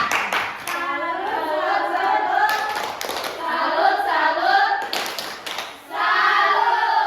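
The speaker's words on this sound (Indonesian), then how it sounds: "Tepuk salut untuk mereka." A classroom group performs a rhythmic salute clap in unison, several short bursts of patterned clapping separated by brief pauses, fairly close, with some voices chanting or speaking along.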